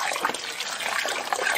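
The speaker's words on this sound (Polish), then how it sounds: "A teraz zalewam królicze gąbki wodą deszczową" Rainwater poured from a container over comfrey leaves to make garden liquid fertilizer, a short close splashing gush of water that continues steadily, with no talk.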